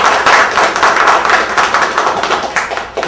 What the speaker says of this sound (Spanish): la doctora María Elena Porto Carrero Zamora, a quien saludamos con un fuerte aplauso